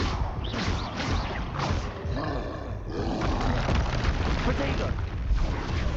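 Confringo spell blasts from Hogwarts Legacy, booming and roaring continuously amid dense game effects and other spell sounds, with the overall level staying loud and steady.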